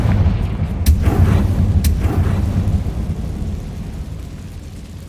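Fiery Confringo spell blast in the Hogwarts Legacy video game, a deep rumbling boom with sharp crackling bursts that rolls on and slowly fades, loud and without talk.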